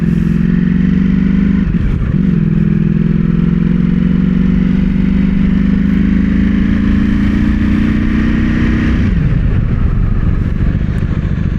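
A motorcycle engine drones steadily and loud while riding toward Motegi circuit, its pitch dipping briefly early on and again near the end as the throttle eases, with no talk over it.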